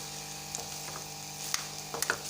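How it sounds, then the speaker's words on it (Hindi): Mutton keema frying in a pan for egg keema, a quiet continuous sizzle with a few faint scraping ticks and no voices. "अब हम इसे करेंगे 3 से 4 मिनट इसकी भुनाई अच्छी तरह"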